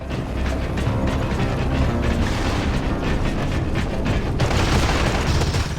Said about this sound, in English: The gun sound effects are shit